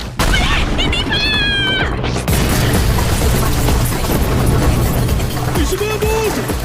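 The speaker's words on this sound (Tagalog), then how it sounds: "Sumabog!" An animated explosion erupts, a loud sustained roaring blast of broadband noise that continues for several seconds, preceded by whistling tones and followed by a faint rising whine.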